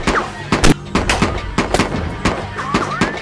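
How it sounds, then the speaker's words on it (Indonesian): Bullets explode inside a bag in an action film, a rapid string of sharp, loud cracks and pops at uneven intervals, with faint voices between them. "ada peluru yang membuat peluru tersebut meledak dan hampir saja mengenai"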